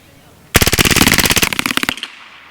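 A full-auto Hatsan Blitz .30 caliber air rifle fires a rapid burst of about twenty sharp, loud shots in quick even rhythm, close to the microphone, at a target 100 yards away.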